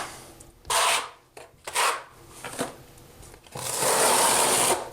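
Steel notched trowel scraping and combing thin-set mortar across a bathroom floor for an uncoupling membrane near a toilet flange; several raspy strokes, the last one long and steady, close and fairly loud with no talk.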